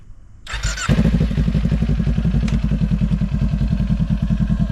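A motorcycle engine catches and revs hard right up close, settling into a loud, rapid, pulsing throb after a brief initial clatter.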